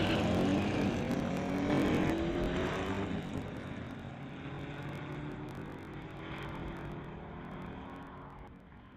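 A 1967 VW Bug and a 1971 VW Beetle drag race on a street-legal strip, their engines roaring loudly at first, then fading steadily into the distance as they pull away.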